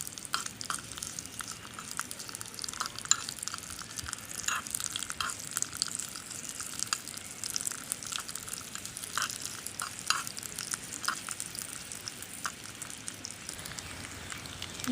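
Onions softening in a hot pan for an anchovy fish curry, giving a soft, steady crackling sizzle with faint stirring scrapes, low and continuous, with no voices.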